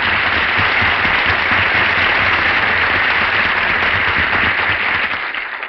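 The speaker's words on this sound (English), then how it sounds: "Give him a big hand." A loud, dense studio audience applauds a guest on a live radio comedy show, with steady, sustained clapping that tapers slightly at the end.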